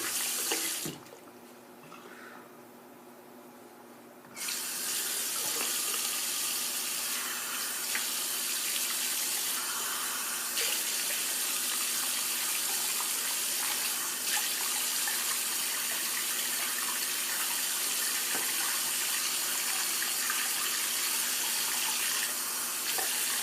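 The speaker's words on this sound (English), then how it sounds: "Rinse off the soap puck here." Water runs from a tap to rinse a shaving soap puck, a steady hiss and splash that drops briefly at the start, then flows on strongly and evenly for the rest.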